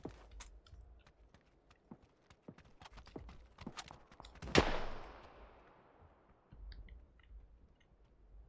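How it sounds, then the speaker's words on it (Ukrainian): Several sharp gunshots in the video game PUBG crack out amid scattered clicks, one louder blast ringing out with a fading tail midway, with more shots following. "Хтось звідти стріляв."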